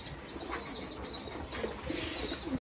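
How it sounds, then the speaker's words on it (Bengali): Domestic pigeons coo softly at a loft while drinking water and feeding, a low murmuring under a steady high-pitched background hum, with no voices. "থরের কবুতরগুলোর পানি দিয়ে দিছি, যে যার মতো খাওয়া দাওয়া করছে"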